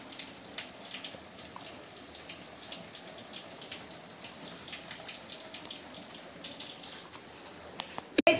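Rain falls outside, a light, steady patter of drops with scattered small splashes, fairly faint and continuous, ending in a sudden loud knock.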